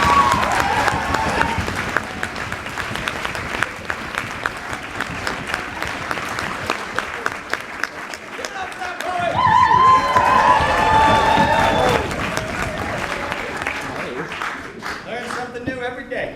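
An audience at a poetry slam final applauds and cheers with dense clapping that rises and falls, mixed with shouts and a voice talking over parts of it.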